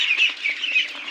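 Ducklings being brooded indoors in a room give a continuous chorus of high, thin peeping calls. The calls are moderately loud and near, with no other sounds.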